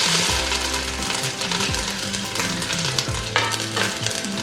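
Curry leaves hit hot oil for a Kerala-style beef fry, setting off a loud, steady crackling sizzle with a few spoon scrapes and clinks against the pan.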